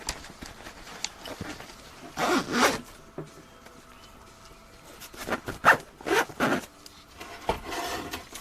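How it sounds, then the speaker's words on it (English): A zipper on a bag is pulled in several quick rasping strokes, close and clear, with handling noise between pulls inside an RV. "Zip this up so nothing falls out of it."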